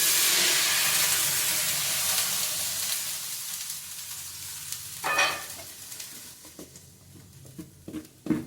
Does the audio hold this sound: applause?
no